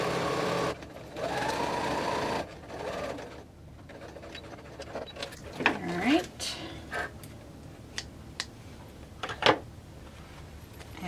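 Bag pieces go through a sewing machine in a short steady run near the start, followed by clicks, handling noises and a voice talking in the background.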